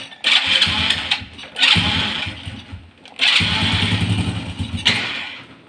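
A motorcycle engine rumbles close by, revving in several surges and dropping back between them, loud and alone, while a GPS tracking device is tested on it.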